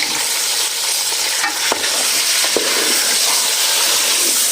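Garlic-ginger paste and chicken fry loudly in a pan, giving a dense, continuous sizzle with a few sharp clicks as the mixture is stirred.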